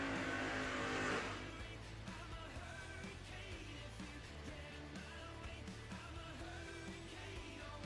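Race cars run on an oval track, the Chevy Deuce among them, heard as a loud engine roar that drops after a second into a steady distant rumble of the field.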